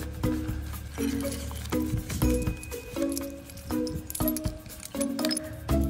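Coins clink again and again as loose change is counted by hand, a run of small metallic taps and jingles at an irregular pace, close and moderately quiet with no talk.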